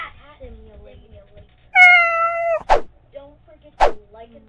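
A cartoonish cat meows from the video game Cat Simulator: one long drawn-out meow, then two short sharp cries, loud and close over faint low background sounds.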